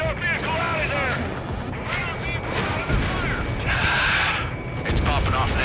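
Anti-aircraft guns fire in Ace Combat 7 as a dense, loud barrage of rumbling bursts and booms. Radio chatter and other game sounds run over the gunfire throughout.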